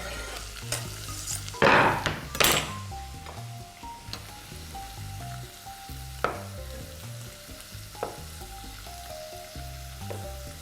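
Onion and mushrooms frying in a pan, with a steady close sizzle throughout, a few louder scraping stirs near the start and scattered light clinks of utensil on pan.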